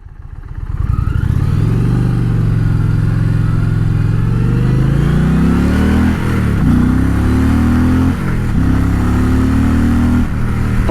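The engine of an Indian Challenger Dark Horse motorcycle rises from idle into a loud, sustained rev under a ride, climbing in pitch with several quick dips and recoveries as it works through the throttle.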